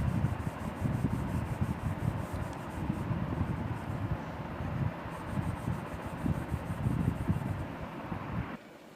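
Crayon or pencil rubbing back and forth on paper to color in strips, a continuous close scratchy scraping in quick uneven strokes that stops abruptly near the end.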